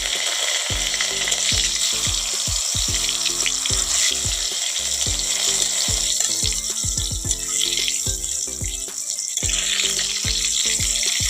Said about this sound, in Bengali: দেখো মাছের জন্য আলুটা ভেজে নিই